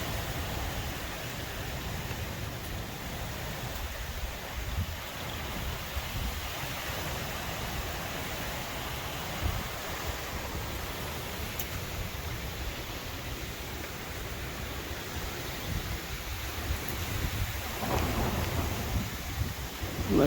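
Strong windstorm wind roars steadily outdoors as a broad, rumbling rush with gusty swells, building toward the end, with no voices.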